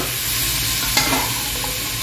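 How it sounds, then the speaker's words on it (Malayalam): Chicken being stirred into gravy in a hot pan, with a steady sizzle and a brief scrape of the spoon partway through. "ചിക്കൻ ഇടുകയാണ്."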